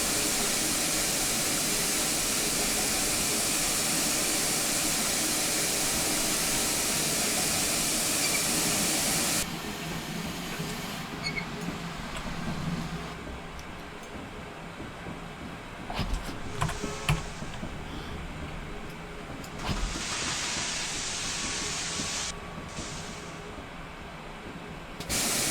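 A GWR Saint steam locomotive in a train simulation runs with a loud, steady steam hiss that abruptly drops to a quieter rolling rumble, with scattered clanks and a brief renewed hiss burst later on.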